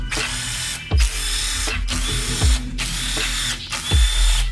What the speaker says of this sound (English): we're gonna use our small 1/4 inch impact